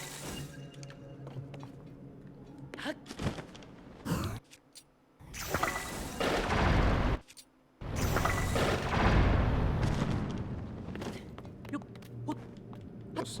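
Heavy booming bomb blasts in The Legend of Zelda: Tears of the Kingdom, with rumbling debris and crackle, several explosions in a row, loud and close, separated by brief quiet gaps.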